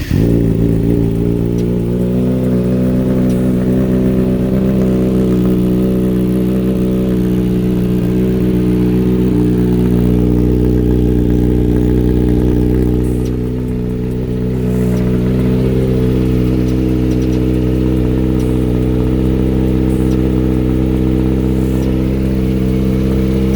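A Kawasaki ZX6R motorcycle with an M4 exhaust running nearby, a loud steady engine drone with a strong low hum, briefly dipping before rising again.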